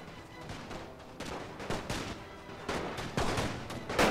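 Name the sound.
rifle gunfire in The Great War video game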